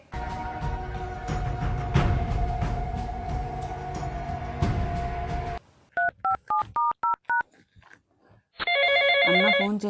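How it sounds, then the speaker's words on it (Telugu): A telephone indoors ringing with an incoming call: several seconds of loud broadband noise, then a run of short electronic beeps and a sustained bright ringtone. "అన్న ఫోన్ చేస్తున్నాడు"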